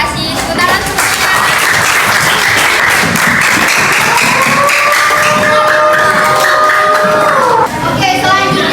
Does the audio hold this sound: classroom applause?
yes